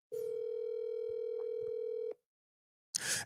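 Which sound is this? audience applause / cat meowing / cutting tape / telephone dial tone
telephone dial tone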